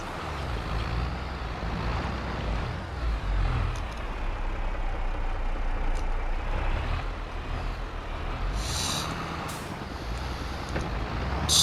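A farm tractor drives across the ground in Farming Simulator 22, its engine a steady, loud low drone that holds throughout, with a brief hiss and a few high tones near the end.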